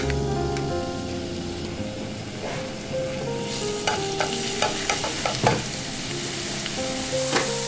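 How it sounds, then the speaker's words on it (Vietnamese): Garlic and shallots sizzling and crackling in hot oil, with occasional stirring clicks and scrapes of a utensil in the pan. "Đợi dầu nóng thì mình cho hành tỏi vào phi thơm."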